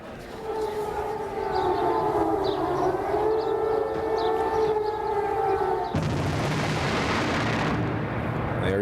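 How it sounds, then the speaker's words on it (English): Air raid sirens wail in long rising and falling tones over a city under attack during strikes on Baghdad, then a loud burst of rumbling noise breaks in near the end. "They're the wail of sirens, the thunder of a new desert war."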